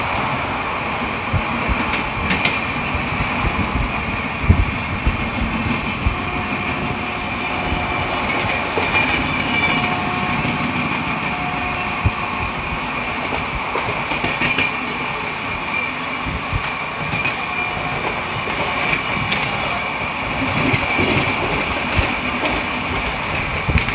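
The Ganadevta Express on its Howrah to Rampurhat run rumbles steadily along the tracks for the whole stretch, with an even clatter of wheels over rail joints and carriage noise close by and no voices.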